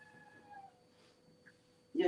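A pet cat gives a short, fairly loud meow at the very end, after a quiet stretch indoors with faint background tones.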